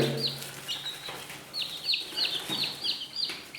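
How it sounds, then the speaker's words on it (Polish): A broody hen sits among chicks, probably small Serama and Silkie bantams, giving repeated soft, close clucks and chirpy calls in an irregular rhythm, with no talking over them. "No, patrzcie jak kwoka im tam coś rozgrzewuje."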